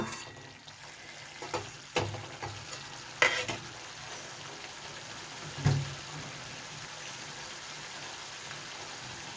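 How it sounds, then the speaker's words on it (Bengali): Spices for a vegetable curry sauté in a pan, a soft continuous sizzle broken by a few sharp scraping stirs and clinks, close and fairly quiet with no talking. "দিয়ে আর একবার ভালো করে কষিয়ে নেব।"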